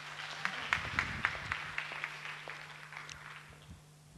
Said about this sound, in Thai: ผมขอเสียงปรบมือดังๆ